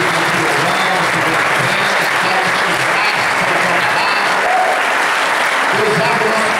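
Congregation at an evangelical church service applauding, a dense, loud, steady wash of clapping throughout with a few voices mixed in.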